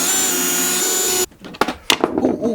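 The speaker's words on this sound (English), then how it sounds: "drill the hole in, continue the hole all the way into the window frame" Power drill boring a hole into a wooden window frame during tiny house window assembly, a loud continuous whir for about a second before stopping, followed by a few scattered knocks and handling clatter.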